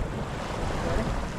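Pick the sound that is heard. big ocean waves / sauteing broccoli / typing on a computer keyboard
big ocean waves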